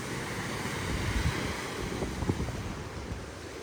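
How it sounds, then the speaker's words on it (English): Ocean waves on a beach in Bali, a steady wash of surf with wind buffeting the microphone and a few soft swells breaking, moderately loud and continuous with no voices. "the waves, ocean waves."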